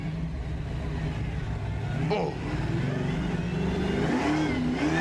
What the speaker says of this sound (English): This is a 572 blown and alcohol injected big block Ford motor.